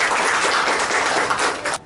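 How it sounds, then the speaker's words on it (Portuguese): An audience at a formal ceremony applauds the national flag, a brief dense burst of clapping that stops abruptly. "Uma salva de palmas ao nosso pavilhão nacional."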